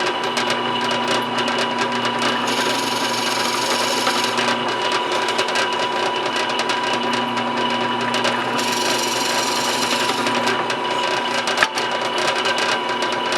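A power tool drones steadily with a whirring hum throughout, its pitch rising twice as it bites harder; no voices.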